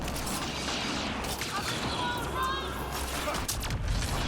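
Sustained gunfire in the sci-fi shooter Mass Effect: Andromeda, a dense, continuous barrage of shots with whooshing energy effects layered on top, loud and busy throughout with no pauses.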